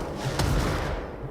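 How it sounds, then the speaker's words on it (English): Rapid gunfire in the video game Control, fired while the character levitates, a dense burst of booming shots running together into a loud, continuous barrage. "While levitating, I can now shoot 4 shots instead of 3."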